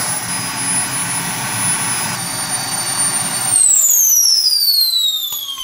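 A turbojet engine rigged up as a kitchen range hood roars steadily, then its pitch sweeps upward into a rising whine as the throttle climbs, loud and close with no one speaking.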